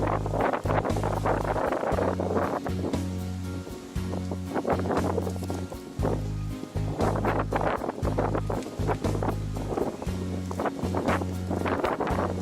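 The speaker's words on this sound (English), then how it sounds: "Wind's blowing pretty good." Strong wind blows outdoors along the Colorado Trail near Zero Pass, between Breckenridge and Twin Lakes, rumbling and buffeting the microphone in loud gusts that rise and ease throughout.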